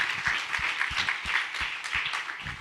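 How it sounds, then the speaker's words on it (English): An audience claps a round of applause for California State Senate members at a climate legislation event: steady, fairly close clapping that continues without pause and has no talk over it. "If we could please give them a round of applause and they could raise their hand."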